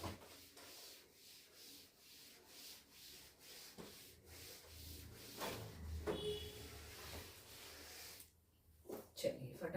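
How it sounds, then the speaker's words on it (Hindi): A classroom board being rubbed clean with repeated rhythmic scrubbing strokes, fairly quiet, with a voice speaking faintly at times. "शैल आई रब द बोर्ड नाउ?"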